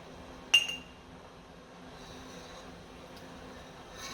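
A regular metal spoon clinks once sharply against a pot while skimming melting butter for ghee, followed by faint quiet handling noise and a soft scrape near the end.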